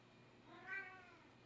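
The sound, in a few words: cat meowing to go outside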